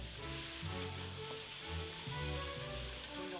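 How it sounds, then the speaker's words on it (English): Steaks sizzling in a pan with cognac flambé, a soft, close frying crackle with gentle pulses of stirring and spattering, quiet and without talk. "The steaks come back. Cognac, and we're flaming."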